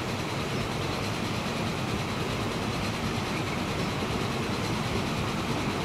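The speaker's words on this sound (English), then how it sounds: "And there is one of our huge and very old freight trains." A huge, very old freight train rolls past in Transport Fever, a steady, loud rumble of wheels and wagons that holds evenly from start to finish with no voices.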